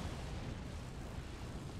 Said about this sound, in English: Oh, those are howitzers.